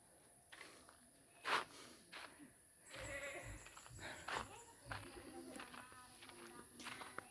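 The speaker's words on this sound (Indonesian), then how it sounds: "Di sini ada banyak burung sahabat ya." Birds call around a remote forest village, scattered chirps and coos at a modest distance, with a person speaking and occasional footsteps or clopping in the background.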